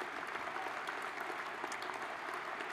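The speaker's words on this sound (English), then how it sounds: "just to give another round of applause just for everyone that is here today" Steady audience applause filling a Cotton Bowl Hall of Fame ceremony hall, a dense continuous patter of many hands clapping at moderate distance throughout, with no voices over it.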